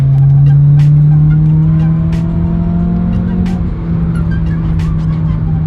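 An Acura RSX engine with an HKS Hi-Power exhaust and Injen short ram intake revs hard and steady at high RPM, a deep droning exhaust note holding loud and close, rising slightly in pitch.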